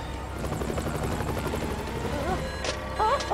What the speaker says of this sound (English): The plane's out of control!